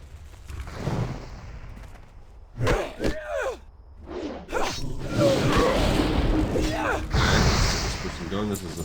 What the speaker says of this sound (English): Shoot you with lightning.